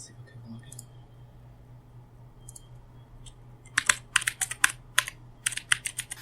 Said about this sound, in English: I like the typing.